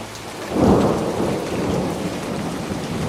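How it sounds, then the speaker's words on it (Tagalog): Steady rain pours down while a low, rolling thunder rumble swells early on and then fades into the continuous hiss of the downpour. "sakto naman ang pag-ambon hanggang sa unti-unti nang bumabagsak ang ulan"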